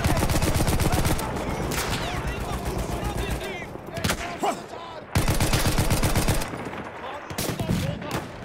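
Rapid machine gun fire in the Battlefield 1 video game, loud bursts of shots near at hand with brief pauses and other game sounds between them.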